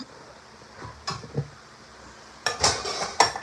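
A pan handled while home-cooking hot dog sauce: a couple of soft knocks early, then louder metallic clatters and scrapes near the end, close by with no talk.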